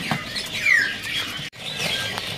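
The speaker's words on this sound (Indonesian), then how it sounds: "Di sini ada burung rawa-rawa mini Sumatera." A Sumatran mini rawa-rawa bird gives a short, sharp chirp and several fainter tweets at a bird kiosk in a market, close by against light background noise.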